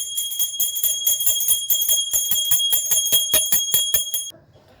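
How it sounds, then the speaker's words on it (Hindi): A small brass prayer hand bell rings steadily in rapid repeated strokes during a home Hindu puja, bright and close, for several seconds before stopping abruptly. "अब मैं सारे घर में घंटी बजाऊंगी सुख शांति के लिए।"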